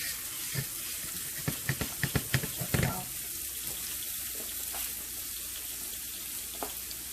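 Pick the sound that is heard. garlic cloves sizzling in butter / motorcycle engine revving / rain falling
garlic cloves sizzling in butter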